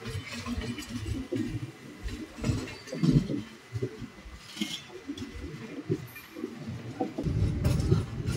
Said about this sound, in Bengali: আমাদের ট্রেন বেরিয়ে যাচ্ছে কাজীপেট জাংশন থেকে